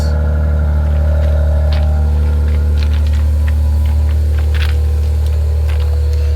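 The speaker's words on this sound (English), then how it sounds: "This one don't sound too bad to be the V6." A Maserati V6 engine runs at a steady idle with a deep, continuous rumble and low hum, close and loud throughout, with faint clicks and small mechanical ticks on top.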